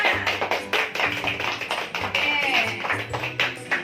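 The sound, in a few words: applause for the quiz groups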